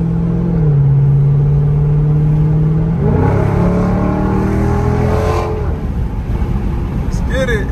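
A 500hp Dodge Scat Pack's exhaust hums in a steady low drone, then revs up with rising, layered engine tones, loud and close throughout.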